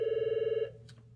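A telephone rings with a fast, warbling electronic trill for about half a second, loud and close, then cuts off, leaving a faint brief rustle.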